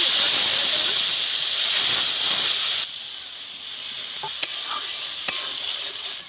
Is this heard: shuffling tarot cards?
no